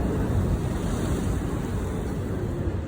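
A small water taxi moves fast through open harbour water in New York, giving a steady, loud rush of churning water and wind buffeting close to the microphone, with no voices.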